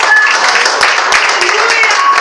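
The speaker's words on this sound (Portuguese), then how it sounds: "Aplauda o Senhor por sua grandeza." A church congregation applauds in dense, steady clapping that fills the space, with a few voices mixed into the crowd noise throughout.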